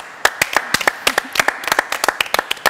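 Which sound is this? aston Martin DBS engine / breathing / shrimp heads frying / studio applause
studio applause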